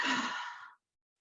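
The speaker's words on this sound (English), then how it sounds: "we can take a moment to breathe" A single deep exhale during a guided breathing exercise, a soft breathy whoosh lasting under a second before silence.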